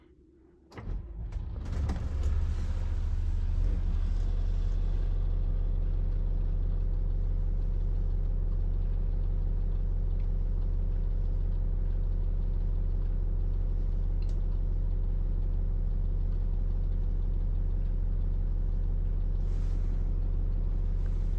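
A Cummins ISL 8.9 diesel engine in a Newmar Dutch Star motorhome cranks briefly, catches and roars up, then settles into a loud, steady, rumbling idle that runs on unchanged.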